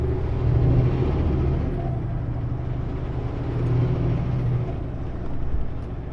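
Air brakes on a truck hiss as it slows on the road, a steady close hiss with a low rumbling engine beneath it, swelling and easing over several seconds.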